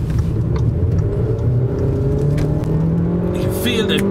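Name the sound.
Audi A3 Saloon accelerating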